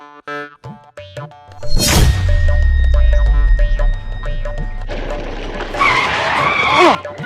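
A scooter rolls up and brakes with a loud skidding squeal that rumbles on for several seconds, ending in a bumpy stop, after a short musical jingle; voices sound faintly beneath.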